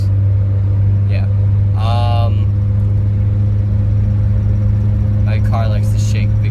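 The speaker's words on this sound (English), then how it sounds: "You can probably hear my car." A car engine idles with a loud, steady low rumble, while a person speaks briefly over it.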